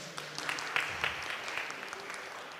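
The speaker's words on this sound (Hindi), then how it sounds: "बच्चों के लिए पहले तो तालियां बजाएं ज़ोर से" Applause for children at an Asian fellowship church meeting in Slough, a soft, steady patter of many hands spread through a full hall, staying fairly quiet and distant with no clear voices on top.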